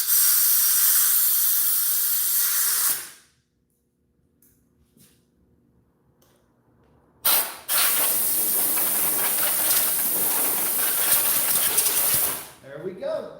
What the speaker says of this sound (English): Plus I have compressed air, so I win.